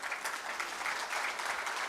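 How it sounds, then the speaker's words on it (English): Audience applause for the panelists at a business summit in Islamabad, a steady sustained clapping from a crowd filling the whole moment, with no voices over it. "A big round of applause for the panelists."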